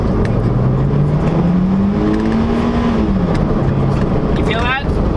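A wide-bodied Honda S2000 with a new performance clutch accelerates in third gear from about 30 mph, its engine note rising steadily and then dropping back, loud and close from inside the cabin.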